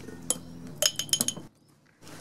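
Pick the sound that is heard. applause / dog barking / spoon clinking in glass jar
spoon clinking in glass jar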